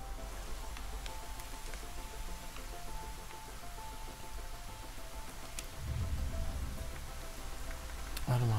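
Rain falls in the video game Deiland as a soft, steady hiss running evenly underneath. Faint low sounds drift in near the end.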